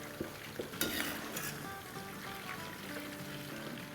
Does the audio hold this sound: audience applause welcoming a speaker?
no